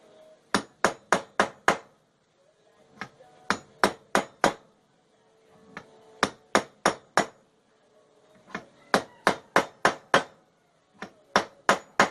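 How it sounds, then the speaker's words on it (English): Hammer tapping a bearing race into a trailer wheel hub, sharp metallic strikes in quick groups of three to five separated by short pauses, close and clear. "Alright, I tapped the other race back in."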